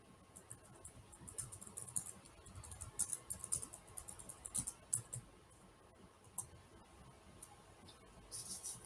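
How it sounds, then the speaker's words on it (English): Faint, irregular clicking of keys on a computer keyboard during a lecture session, light tapping in scattered bursts against a quiet room hum. "probably someone's typing"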